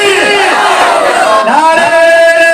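A crowd at a religious gathering chants back in answer to the Nara-e-Takbir slogan, loud sustained massed voices rising and falling in pitch together.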